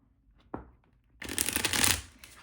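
A deck of cards is shuffled up close: a single soft snap, then a brisk riffle that builds into a dense, crisp flutter before stopping, with no talking.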